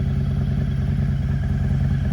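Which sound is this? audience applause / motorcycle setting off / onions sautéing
motorcycle setting off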